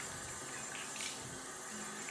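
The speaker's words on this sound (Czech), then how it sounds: "A stačí umyvadlo už opláchnout s vodou" Tap water runs into a bathroom sink as it is rinsed, giving a steady, moderate splashing hiss that stays even from start to finish.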